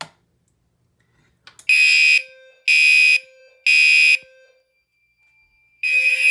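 An old fire alarm system sounds during a smoke detector magnet test, with loud electronic horn blasts in separate bursts of about half a second each. A steady faint tone runs between them, and silence comes before the first blast.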